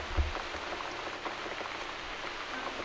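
Steady rain falling in the video game The Cat Lady, a continuous soft hiss of drops hitting surfaces throughout, close and even, with no voices.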